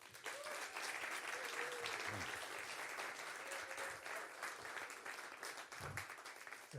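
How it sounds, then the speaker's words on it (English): An audience at a cocktail presentation welcomes a guest with sustained applause, a steady wash of many hands clapping that fades slightly near the end, with a few faint voices underneath. "please join me in clapping to welcome Eric today"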